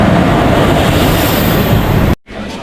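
A train pulling into a station with a loud, steady rumble and broadband roar that fills the clip, then cuts off abruptly near the end, leaving only faint background sound.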